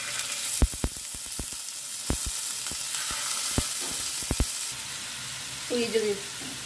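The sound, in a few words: chicken pieces frying in hot oil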